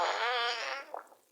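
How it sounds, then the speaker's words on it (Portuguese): A cartoonish fart sound from the Talking Tom video game, a single drawn-out buzzing blast lasting about a second before trailing off into a faint sputter. "Então aí dá um super peido aí."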